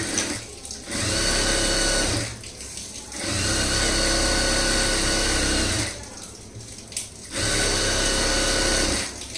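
A domestic sewing machine stitches a blouse lining in three long bursts, each running steadily for a couple of seconds and separated by short pauses, close and fairly loud with no talk.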